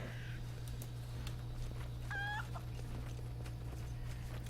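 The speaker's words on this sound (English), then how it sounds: "Chickens." A short clucking call from a chicken in a video game rises midway over a steady low electronic hum and background ambience, with no talking.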